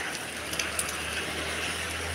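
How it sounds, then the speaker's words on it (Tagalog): Heavy rain falling outdoors on a rainy morning walk, a steady, even hiss with faint scattered drop ticks and no talking. "Ang lakas ng ulan dito"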